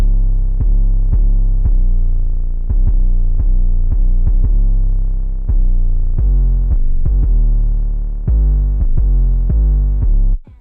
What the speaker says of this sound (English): Once the rhythm is set, I played this 808 pattern.